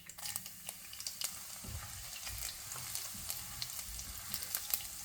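A sliced garlic clove fries in hot oil with mustard and fennel seeds, making a soft, steady sizzle with scattered light pops and crackles, fairly quiet and without talk.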